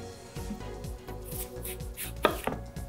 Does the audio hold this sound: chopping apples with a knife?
yes